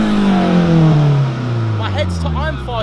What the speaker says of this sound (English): I'm going to rev the Fiat 500